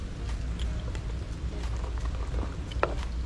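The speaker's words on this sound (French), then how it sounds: "Parce que là il pleut fort." Heavy rain pours down at a fishing spot, a dense steady hiss filling the whole stretch with a few sharper drip and splash accents near the end.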